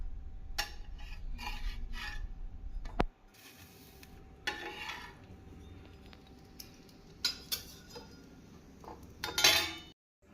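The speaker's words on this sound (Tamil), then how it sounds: "நாம் தோசை சட்டியில் பிரெட்டை டோஸ்ட் செய்ய வேண்டும்." Bread slices toasting in ghee on a dosa pan, with close clinks and scrapes of utensils against the pan and a soft sizzle underneath, in bursts and pauses.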